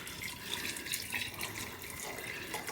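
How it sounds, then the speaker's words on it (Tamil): Hot water pours steadily into a pot with a continuous splashing trickle, close by, with no talking. "அப்புறம் கொஞ்சம் சுட தண்ணியே ஊற்றுறேன் நான்."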